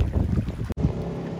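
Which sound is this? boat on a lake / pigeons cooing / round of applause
boat on a lake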